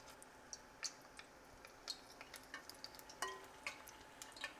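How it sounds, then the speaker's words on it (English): Spoonfuls of corn fritter batter deep frying in hot oil on a stovetop, a soft background sizzle broken by small pops and light clicks of spoons, quiet and close with no talking. "instead of deep frying like this"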